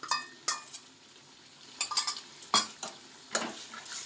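A ginger, cumin, garlic and green chilli paste goes into a pan for a rohu fish curry with potato and pointed gourd; spoon clatters and scrapes ring out sharply over a faint sizzle in uneven bursts.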